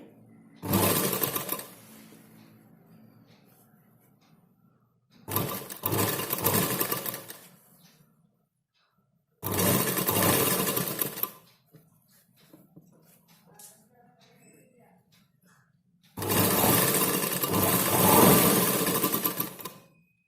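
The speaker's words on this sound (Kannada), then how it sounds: "ಹೀಗೆ ಸ್ಟ್ರೇಟ್ ಇಟ್ಕೊಳ್ತಾ ಹೊಲಿತಾ ಹೋಗಿ. 1/4 ಇಂಚ್ ಅಗಲದಲ್ಲಿ ಹೊಲಿರಿ." Sewing machine stitching a quarter-inch tuck seam on a blouse, in four separate bursts of rapid mechanical chatter, each a few seconds long, with quiet pauses between them.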